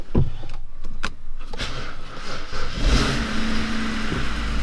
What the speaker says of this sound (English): Let's hop in the car, start it up,